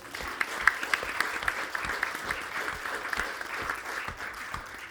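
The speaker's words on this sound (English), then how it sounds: "Please give her a round of applause." An audience at a Newcastle music panel applauds a panelist, a continuous round of many hands clapping at moderate volume with a few sharper individual claps standing out.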